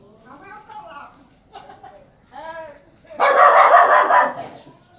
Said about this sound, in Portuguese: Os cachorros acharam de latir logo agora.